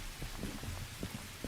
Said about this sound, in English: sounds for you walking through the puddles